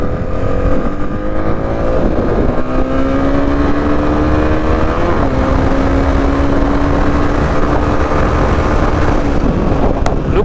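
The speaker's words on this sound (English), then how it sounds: "Look at that, how quickly this accelerates, how quickly this just goes, whoop." A 2022 Honda CB 300 R motorcycle pulls hard through its gears, the engine tone rising and shifting in steady sweeps, heard up close over heavy wind rush on the microphone with no talking.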